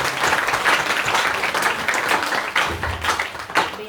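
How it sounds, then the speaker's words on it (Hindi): An audience at a religious katha gathering claps steadily and warmly throughout, a dense, continuous round of applause with no talk. "उनको हम तालियों से धन्यवाद दें"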